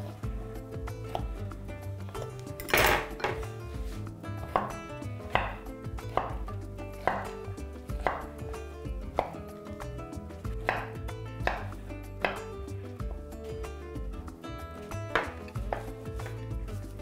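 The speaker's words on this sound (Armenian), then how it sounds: "Բաց թող և կտրատում ենք խորանարդիկների" Knife chopping food into cubes for a prawn salad on a cutting board, a steady series of sharp, close thuds at a brisk, even rhythm with no talk.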